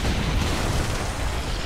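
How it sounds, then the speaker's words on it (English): A tower collapses in Dota 2 with a loud, rumbling blast, a dense, sustained roar of low noise lasting under two seconds, heard on its own without talk. "Dire's top tower is being destroyed."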